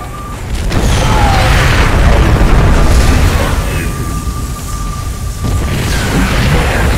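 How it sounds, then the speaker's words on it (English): A purifier cannon in StarCraft II charges and fires, producing loud, sustained booming blasts and rumbling explosions that fill the whole stretch, with a high energy tone running underneath. "The purifier is about to fire."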